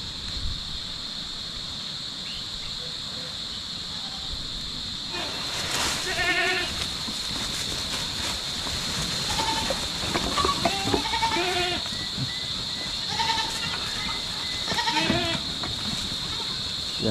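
Several goats in a Philippine farm pen bleat repeatedly, short wavering cries coming one after another at moderate distance over a steady insect-like hum and light rustling.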